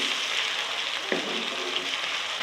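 Tomatoes fry with garlic and ginger in a pan for sarson ka saag, a constant soft hiss close up with one brief stirring scrape partway through.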